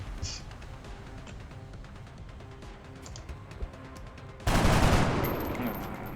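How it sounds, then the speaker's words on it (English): Gunfire exchange in the X-Com video game: a steady patter of small clicks and pops, then a sudden loud burst of shots that rings out and fades over the final seconds. "he shoots back and of course he hits"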